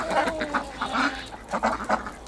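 Several mud-caked ducks quack in short bursts, close by, with brief pauses between calls.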